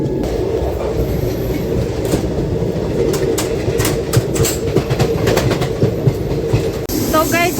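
Inside a moving Mumbai local train near the open door, a loud continuous rumble with clickety-clack of wheels and scattered rattling, with faint bird-like chirps near the end.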